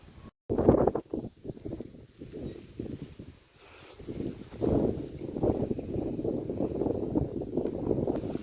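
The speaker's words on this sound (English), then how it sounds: "you're just going to hear wind" Gusts of wind buffet the microphone in rumbling bursts, fading briefly in the middle before picking back up and roaring on steadily.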